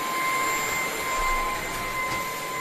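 An Ultenic vacuum cleaner runs at its maximum speed setting, giving a steady, close, whining roar with a high tonal hum that stays constant throughout, with no talking.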